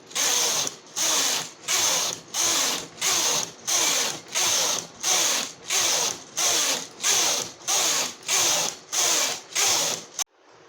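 Knitting machine carriage pushed back and forth across rows of plain stitches, a steady series of about fifteen loud rasping, ratchet-like sweeps with short gaps between them, close up and with no talk.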